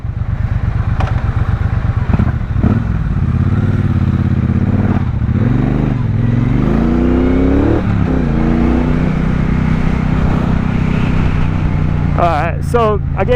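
A 2017 Triumph Bobber motorcycle pulls away off the clutch, a loud close engine thumping and then revving upward with rising pitch before settling into a steady drone, with speech faintly over it and a brief clatter near the end.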